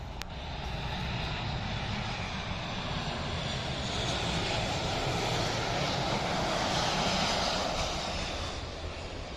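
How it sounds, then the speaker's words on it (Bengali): A Boeing 737 cargo plane of ASL Airlines taxis toward an onlookers' spot near Dhaka airport, its engines giving a steady, loud, broadband roar that holds evenly throughout with no voices over it. "বোয়িং সেভেন থ্রি সেভেন মডেলের এএসএল এয়ারলাইন্সের এই বিমানটি এগিয়ে আসছে"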